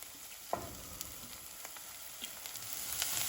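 Onions frying in oil for an Eritrean vegan lentil curry, giving a steady low sizzle with a few brief clicks and taps of a utensil, close and fairly quiet, with no talking.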